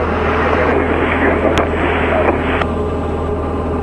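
Diamond DA-40 light aircraft in cruise flight at altitude, a steady loud engine and propeller drone filling the cabin without a break, with a couple of faint brief clicks.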